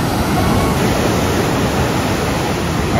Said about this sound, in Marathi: आणि लाटा बघा ना